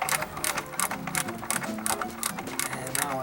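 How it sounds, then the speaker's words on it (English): Wood screws driven into a wooden footer for a pentagon-shaped backyard observatory base: a close, steady run of rapid ratcheting bursts, repeating roughly twice a second without pause. "I got the wood screws started into the footer"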